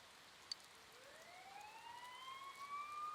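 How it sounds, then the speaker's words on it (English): Police sirens wail in the Persona 4 Golden video game, rising into faint, sweeping tones over a soft bed of rain. The sirens grow slightly louder toward the end, and no one speaks. "Sirens nearby."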